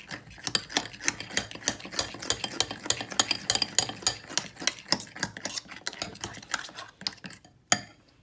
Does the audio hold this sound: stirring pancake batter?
yes